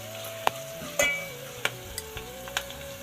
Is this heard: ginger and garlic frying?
yes